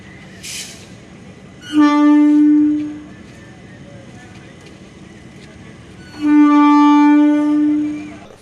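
A railway track inspection engine broken down on the main line near Nihalgarh station in Amethi sounds two long, loud horn blasts separated by a few seconds of quiet.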